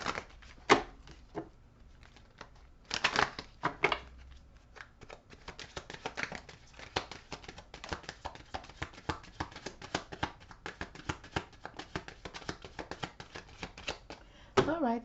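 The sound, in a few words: shuffling tarot cards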